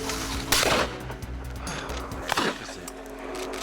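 Two shotgun blasts fired at driven pheasant on a shoot, each a sharp, loud crack with a short echoing tail, about two seconds apart, with faint outdoor background between.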